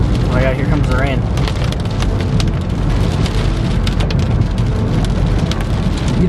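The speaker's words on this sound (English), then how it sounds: "here comes the rain." Heavy rain pounds down during a Cornbelt storm, a loud dense roar of drops with gusty wind, while a person's excited voice is heard at the start.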